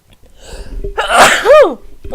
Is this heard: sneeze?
yes